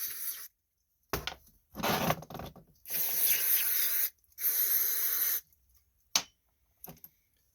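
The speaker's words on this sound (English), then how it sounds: "go ahead and get some carb cleaner. Go ahead and spray all this out." Several hissing bursts of aerosol carburetor cleaner sprayed onto a 5 hp Yard Machine snowblower carburetor, some long and some short, separated by brief pauses; close by, with no talking.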